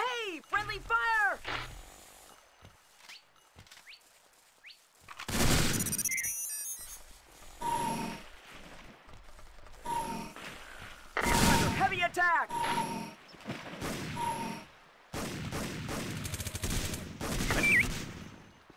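Gunfire bursts from the tactical shooter game Tactical Ops: Monster Attack, with loud broadband shots at intervals amid game sounds and voices talking over the action.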